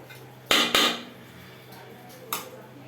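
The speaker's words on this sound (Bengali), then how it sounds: "থালাটার মধ্যে ভালোভাবে নেড়ে নেওয়া যাবে" A metal plate holding biryani ingredients clanks as they are stirred and tossed, giving a couple of sharp close metallic knocks in quick succession and then a lighter clink a moment later over quiet room tone.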